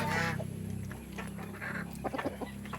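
Rhode Island Red heritage chickens cluck in a backyard coop, a run of short, close calls rising over a steady low hum, with a few sharper peeps toward the end.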